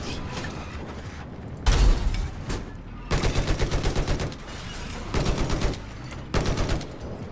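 Bursts of automatic gunfire from Battlefield 4 multiplayer combat, several loud rapid volleys of shots separated by brief pauses, with mechanical clanks in between.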